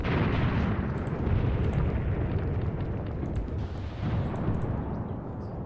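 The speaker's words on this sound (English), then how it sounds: "He's still firing mortars incredibly." Mortar fire in a large Graviteam Tactics battle, a dense, continuous rumble of booms and blasts rolling together without pause, loud and sustained throughout.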